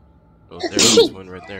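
Himiko lets out a single sharp sneeze, a loud burst lasting under half a second, with people chatting around it before and after.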